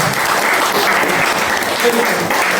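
A congregation at a church service applauds in praise, loud sustained clapping from many people filling the room, with voices audible beneath it.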